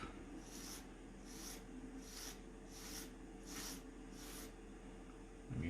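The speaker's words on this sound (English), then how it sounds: "Then we will get our 100 grit file stick and we'll just" A 100 grit file stick rasps across a small part being squared off and rounded at the edges, giving six steady back-and-forth strokes at an even rhythm, close and fairly quiet, with no talking.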